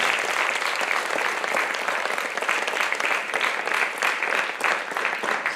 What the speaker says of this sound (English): let's just please give them a more round of applause for being here.